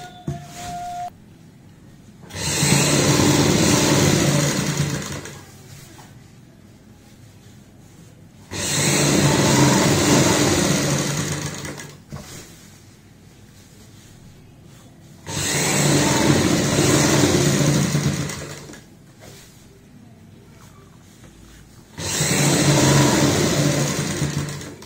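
Sewing machine stitching a travel bag alongside the zip, running in four long bursts of several seconds each with quiet pauses between, a steady close whirring hum.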